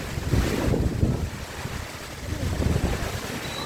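Strong gusting wind from Cyclone Remal, with the tidal floodwater it brings, buffets the microphone in loud, rough roaring bursts that rise and fall across the whole span, with no speech.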